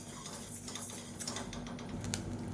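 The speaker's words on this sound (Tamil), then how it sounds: "அரிசி நல்லா சூடு ஏறி நல்லா வெடிக்க ஆரம்பிக்குது" Rice grains dry-roasting in a small kadai crackle and pop, a dense run of faint, quick ticking clicks over a low steady hiss, close by and quiet.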